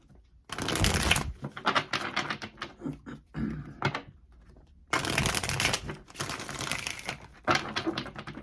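Tarot cards shuffled in two long bursts of dense, crisp riffling and slapping, close and fairly loud, with a brief quieter pause of light card handling between them and no voices.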